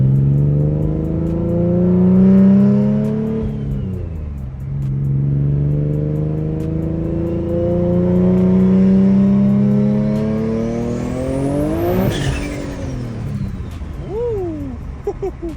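Infiniti G37 with about 800 horsepower accelerating hard through the gears, engine note climbing in repeated loud pulls with drops at each shift and a final high rev, heard close from inside the car.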